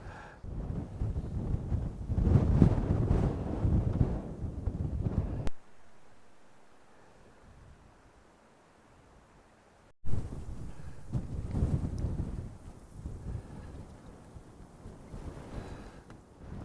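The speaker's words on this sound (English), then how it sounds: "Strong gusts." Strong gusts of wind buffet the microphone beside Binnian Lough, a mountain lake in the Mourne Mountains, roaring loud in two long bursts separated by a quiet lull of several seconds.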